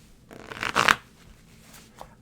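A deck of tarot cards is shuffled in one quick riffling burst lasting under a second, close and crisp, with a faint tap of cards afterward.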